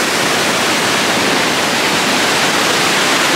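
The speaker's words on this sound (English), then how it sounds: "this is one of the most beautiful waterfalls we've ever seen" A waterfall in Olympic National Park roars in a loud, dense, unbroken rush of falling water, close by and constant throughout.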